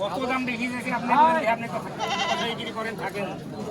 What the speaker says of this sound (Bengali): এগুলো সরের ছাগল দেখেন, আমার এক ব্যাপারী ভাই লিয়ে আইছে।